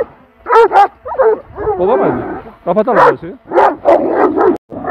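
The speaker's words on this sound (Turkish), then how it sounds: "Köpekler boğuştur arkadaşlar bizim." Dogs barking and scuffling in a mountain setting near wild goats, with sharp barks, yips and growling bursts mixed with close-up speech from people nearby.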